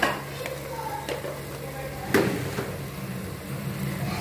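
Goat head meat frying in a pan, a steady close sizzle with a few stirring scrapes and a brief louder clatter partway through.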